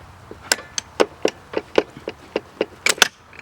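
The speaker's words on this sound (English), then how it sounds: "I'm just going to go ahead and just tap this guy out until it's all the way at the top" A hammer taps a motorcycle footpeg pin out in a string of about a dozen sharp, light metallic knocks, close and unevenly spaced, a couple landing in quick doubles near the end.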